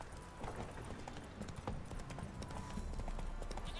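Horse hooves galloping in The Witcher 3 video game, a steady run of clip-clop beats over a dense, busy game soundscape, continuous for the whole stretch, with faint voices underneath.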